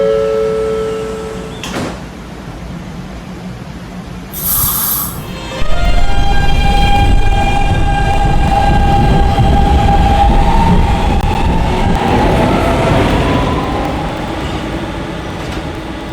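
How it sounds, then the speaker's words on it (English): A D train on a city subway line departs a station: a brief hiss and door sounds give way to a loud, rising rumble and whine of the train pulling away, sustained and close. "This is a Rentar Plaza bound D train."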